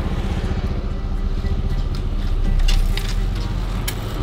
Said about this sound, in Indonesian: Ada motor.